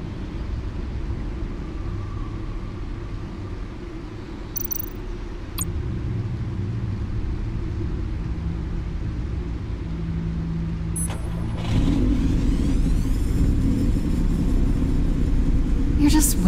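Bruce Wayne's 600-horsepower car engine in a Batman game, a deep rumbling idle that swells louder partway through as it revs, with a voice speaking over it.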